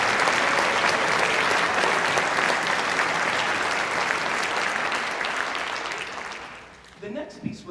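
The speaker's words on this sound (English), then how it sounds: "Can we have a round of applause" A crowd applauds loudly and steadily at a high school band concert, the clapping fading out near the end as a few sounds follow.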